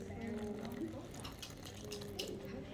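Water poured onto soil in a classroom weathering and erosion experiment, a soft continuous trickle and splash at low level, with children's and adult voices talking over it.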